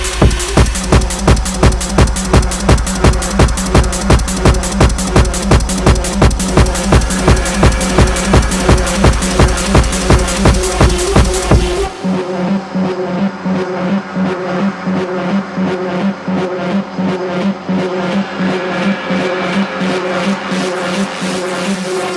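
A techno track: a loud, steady four-on-the-floor kick pulse under dense synth layers, which thin out abruptly midway into a darker, sparser groove.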